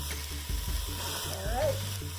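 Red pepper sizzles in a single pot while a backpacker's one-pot Thai peanut pasta cooks, a close, continuous frying hiss with a few low knocks and stirring bumps.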